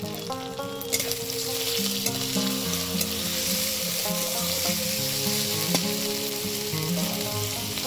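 Ginger, cumin and garlic paste frying in a pan with chopped tomato for chicken ghugni, a loud continuous sizzle broken by spatula stirs and scrapes, no voices.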